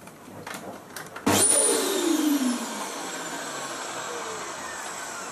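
A Dyson DC04 vacuum cleaner with a repaired clutch assembly switches on after a few faint clicks, its motor surging to a loud steady whine that settles into a constant hum up close.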